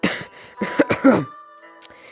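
A few harsh, raspy coughs and throat-clearing sounds in quick succession, close and fairly loud, then a brief quiet stretch with one more short cough.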